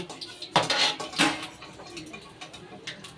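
Metal utensils clink and scrape against a pan as fried mutton fat chops are lifted out, a few sharp close knocks over faint background sizzle.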